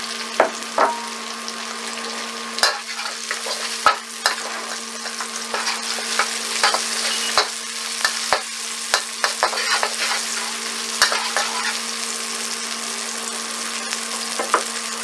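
Onions frying and being stirred in a pan for a cumin lamb and noodle dish: a steady close sizzle broken by repeated sharp scrapes and clacks of a utensil against the pan, with no talking.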